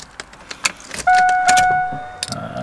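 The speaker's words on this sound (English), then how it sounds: "So let's put the keys in." Car keys jangle and slot into the ignition of a 1998 Camaro Z28, with a few metallic clicks followed by a loud, sustained electronic key-in warning chime, heard close and clear.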